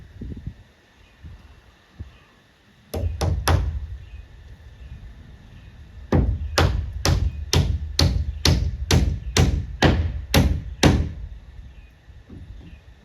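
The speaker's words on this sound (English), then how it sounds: "Kevin is using his left hand to get these nails in." Hammer driving nails into wooden roof trusses of a bathroom shed, loud close blows: a quick burst of three, then a steady run of about ten evenly spaced strikes, with faint background between.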